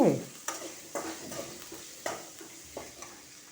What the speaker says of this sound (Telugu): ఇగో వేగనిస్తాను. బాగా వేగితే పచ్చిమిర్చి